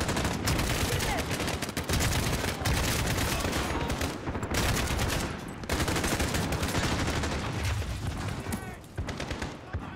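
Dense, sustained gunfire from a Call of Duty: Modern Warfare (2019) firefight, with rapid bursts and overlapping shots running nearly nonstop, loud and close, with brief lulls and some talk mixed in.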